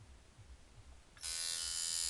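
An Ian Kane Mecho tattoo machine, loaded with a 13 mag and a stainless setup, switches on at 5 volts after a quiet moment, then holds a loud, even, high-pitched electric buzz up close.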